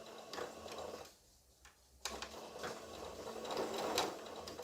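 A sewing machine stitches fabric at a steady ticking rate, pausing briefly in the middle before running on close and clear with no talk.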